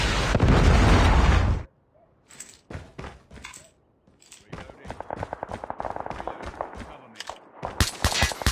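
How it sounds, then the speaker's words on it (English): A Predator missile strike in Call of Duty Mobile hits with a loud, roaring blast that cuts off abruptly, followed by a run of sharp crackling bursts and pops of gunfire, with voices mixed in. "Predator missile inbound"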